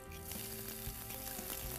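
A small onion drops into hot oil where cumin seeds are already crackling in a home kitchen pan. The sizzling and frying are soft and continuous, with light stirring and no talk.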